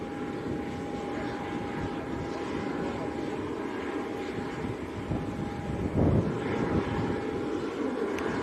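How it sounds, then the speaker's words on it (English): A Jet2 airliner's engines spooling up at Leeds Bradford Airport, a faint distant whine and low roar rising under wind noise, with a steady tone and a brief louder rumble near the end. "We've also got this Jet 2 in front of us starting up as well"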